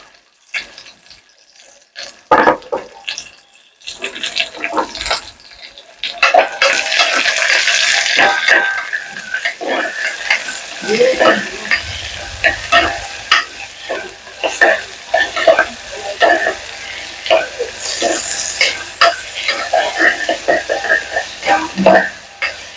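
Onion and jaggery frying together in a pan, stirred now and then: scraping stir strokes and crackling sizzle run through, with steady frying hiss from around six seconds and occasional water or tap noise, no talk.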